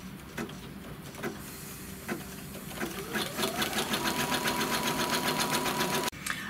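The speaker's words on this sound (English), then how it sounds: "what's going to stitch next is just a little tack down to hold all of those pieces together" An embroidery sewing machine stitches tack-down lines on a tic-tac-toe cinch sack, a close, steady, rapid mechanical rattle and hum that speeds up and rises in pitch partway through, then cuts off abruptly near the end.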